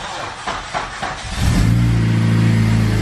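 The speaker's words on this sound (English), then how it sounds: "See if the engine still starts" A Honda Civic Si with a weak battery cranks and then catches, its engine settling into a loud, steady idle close by after a brief irregular stretch of effort.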